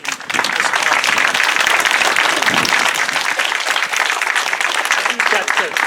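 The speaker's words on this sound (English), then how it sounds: "Should we give Randy and the committee an applause for all their efforts to making this possible." Sustained audience applause at an outdoor Walk of Remembrance gathering in Pacific Grove, honoring the organizing committee; dense, steady clapping from a crowd lasting several seconds, loud and close, with some voices mixed in.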